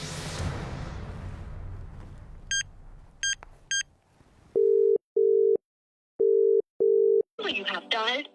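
A telephone gives a busy tone after a call is rejected: a few short high beeps come first, then four loud, steady low tones with even gaps. A voice-like message starts at the end.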